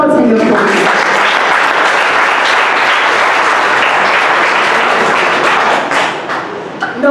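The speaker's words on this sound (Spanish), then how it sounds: "Denle un aplauso al Señor." A church congregation applauds together, loud dense clapping filling the space without a break for about six seconds before it thins out and fades near the end.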